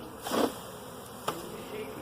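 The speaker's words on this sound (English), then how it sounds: "Just give it a good hard shake. And that's a lot, that's got to be 6 pounds of bees." Honeybees being shaken into a hive drone in a dense, low buzzing swarm, with a brief swell of louder buzzing near the start and a short knock later, fairly quiet and close.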